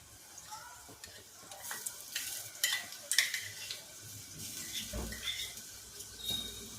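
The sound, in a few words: ground masala paste being sautéed with onion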